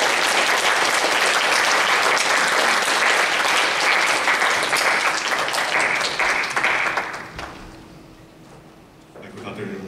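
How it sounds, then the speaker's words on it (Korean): Congregation applause at a church worship service as a young woman, Ye-eun, is welcomed to the front; dense, loud clapping fills the room for about seven seconds, then fades out with a voice briefly heard near the end. "예은이 나올 때 박수로 한번 맞이해 주시겠어요?"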